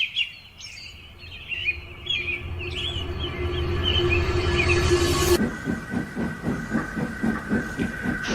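Steam engine 87546 hauls a train into a large station: a rising steam hiss with sustained whistle-like tones, then a sharp cut to rhythmic chuffing and clanking as it rolls in, with brief chirping early on.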